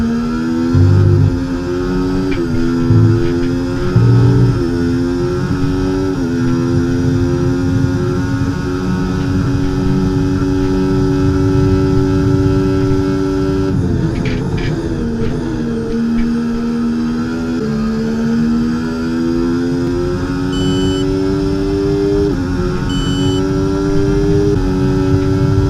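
Engine of a Ferrari Formula 1 car in the EA Sports F1 game at the Italian Grand Prix at Monza: a loud, continuous high-pitched whine that rises and drops with repeated gear shifts.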